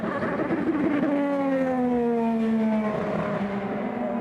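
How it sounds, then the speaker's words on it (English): IndyCar engine on a race circuit at the 2019 Honda Indy Grand Prix of Alabama, sputtering and misfiring: a rough, buzzing engine note slowly falling in pitch, steady and fairly close, under crowd and track noise with no talking. "You can hear it sputtering, misfiring."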